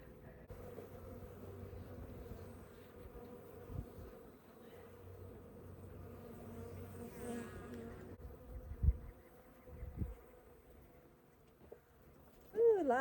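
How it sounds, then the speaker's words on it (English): Africanized honey bees buzz around a beekeeper during a shed-floor hive removal in southern Arizona, a faint steady hum with a few louder passes near the end. "The bees want to be on me."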